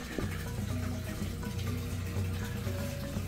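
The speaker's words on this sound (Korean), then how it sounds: "와, 여기 물 흐르게 해놨네." Water runs steadily in a display tank at a pet shop on a pet street by Cheonggyecheon, a continuous close trickle and splash with no talking.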